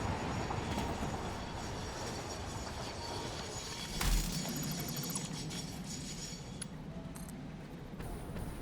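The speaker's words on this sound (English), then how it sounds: "getting hit by a train" A train in the factory-building game Satisfactory rumbles past and strikes the player, a steady mechanical roar with a sudden thump partway through, then faint metallic clinks.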